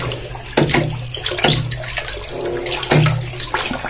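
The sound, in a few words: stirring fertilizer solution in a water drum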